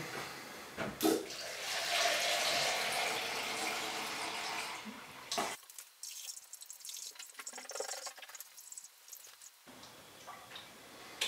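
Water splashes and streams steadily into a container for several seconds, then stops abruptly, leaving only faint trickles and small drips.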